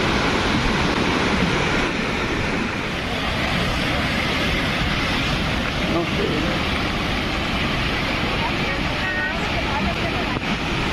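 Flooded river water rushes past a gabion wall in the rain, a loud, continuous broadband roar that stays steady throughout.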